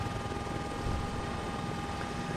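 A steady whirring helicopter drone from a video game hums continuously with a broad, even rotor noise, no voices.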